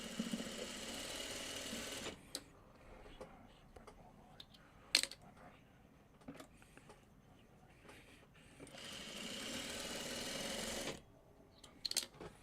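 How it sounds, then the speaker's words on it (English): Sewing machine stitches a quilt block in two steady whirring runs of about two seconds each, with quiet handling clicks and taps between them, close and fairly soft. "let's just sew it together."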